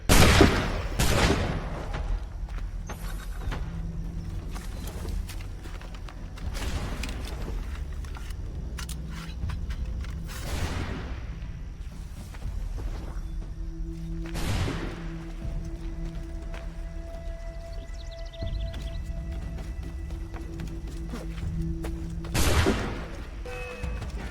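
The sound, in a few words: musket gunfire in video game Assassin's Creed 3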